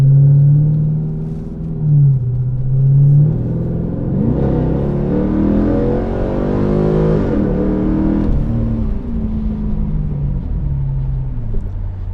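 Pontiac G8 GXP V8 sedan accelerating hard, a loud close rumble whose engine note climbs through the revs, drops at a shift and climbs again.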